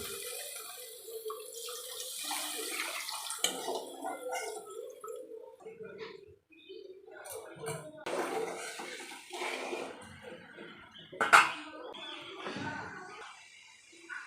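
Water poured into a pan of fried spiced curry for Bengali hilsa fish jhol, splashing and hissing in uneven bursts close by, with a few sharper clinks and quieter gaps between pours.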